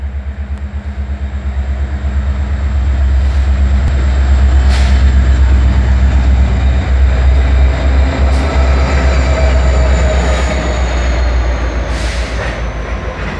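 A CIT locomotive pulls a loaded Norfolk Southern grain train past in Griffin, Georgia: a loud, steady rumble of engine and rolling cars with faint wheel squeal, swelling as it passes close by, with no talk.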